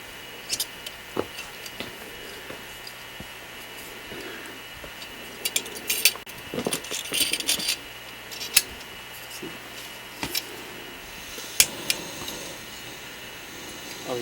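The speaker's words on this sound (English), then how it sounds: "See, little tiny stove, and it screws onto the top." Small metal clicks and light scraping of a little backpacking stove being screwed onto a fuel canister on a hiking trip, faint and intermittent over quiet outdoor background.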